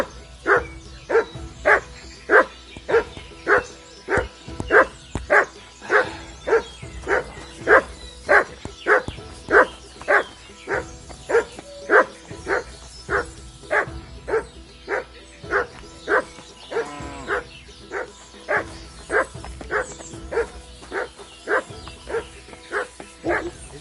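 Mutt the dog barks in Kingdom Come 2, a long run of evenly spaced, loud, close woofs roughly once a second, repeated over many seconds, with faint game ambience beneath.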